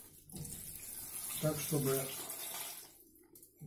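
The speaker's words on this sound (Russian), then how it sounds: "Залили теплой водой" Warm water poured over nuts in a container, a short soft splashing pour, with someone speaking over it.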